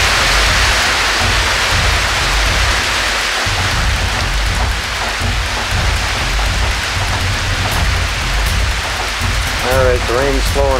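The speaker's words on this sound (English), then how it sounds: "The rain's slowing down now." Steady rain pours onto a Jeep parked at a muddy off-road festival, a dense, constant hiss of drops close by with a low rumble underneath, continuing without a break.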